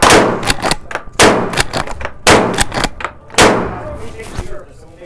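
A Tokarev shotgun fires four loud, close blasts at a trade show range, spaced about a second apart, each with a brief echoing tail.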